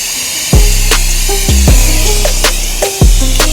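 An Okaoda RUILI-02 pressure washer runs loud and close, its motor droning with a buzzing hum and surging in sharp bursts every second or so as the spray kicks in, no voices.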